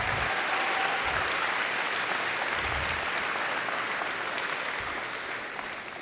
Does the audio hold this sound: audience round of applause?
yes